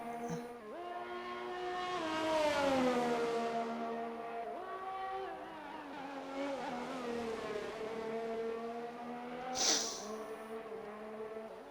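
Formula 1 cars in the F1 2021 racing game lap Spa-Francorchamps, their engines whining and rising and falling as they accelerate and shift, a continuous mid-distance roar with no talk.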